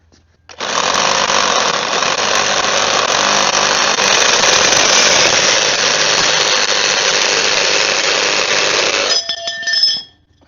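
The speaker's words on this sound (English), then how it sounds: "I'm going to use a Sawzall to cut this because" A Sawzall reciprocating saw cuts at an angle through a part while undercoating a cheap Jeep. It runs as a loud, steady, close buzz for about eight seconds, then sputters and stops.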